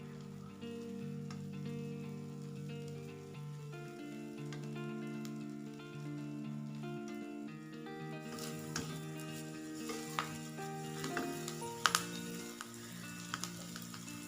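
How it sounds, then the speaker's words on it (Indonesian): Vegetables stir-frying in a pan for fried wontons, a steady close sizzle with light stirring scrapes and clinks over a faint musical background. "Ini sayurannya kalau udah masuk, tumisnya jangan terlalu lama supaya nanti sayurannya masih tetap kelihatan segar."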